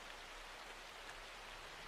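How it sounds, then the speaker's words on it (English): Steady rain falls outside a window as a soft, even hiss that holds unchanged throughout, continuous and fairly faint with no voices or other sounds on top. "Coraline went over to the window and watched the rain come down."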